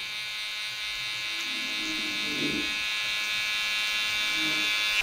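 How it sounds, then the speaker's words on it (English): Electric hair trimmers buzz steadily at close range while blending the lower part of a side-part skin fade haircut, a constant high whine with slight shifts in tone as the blades move through hair. "And then trimmers just to work along that blend down the bottom."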